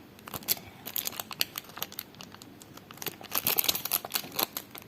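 Paper surprise package being unwrapped by hand, a quiet close run of crinkling, rustling and tearing bursts that thicken toward the end, with no talking.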